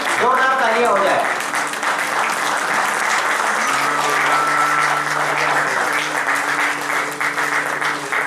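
Enthusiastic audience applause at the Zero Mile Icon Award 2024 ceremony, loud sustained clapping from a crowd that runs throughout, with a voice briefly at the start and a steady musical tone joining beneath the clapping partway through.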